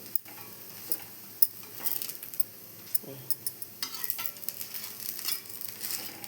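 Pesarattu dosa with onions sizzles on a hot pan, a constant crackling hiss broken by scattered ticks and clinks from a spatula and cookware, close and moderately loud.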